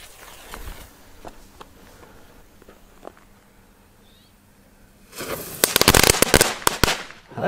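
Scattered faint pops and crackles give way to a loud burst of rapid crackling fireworks explosions near the end.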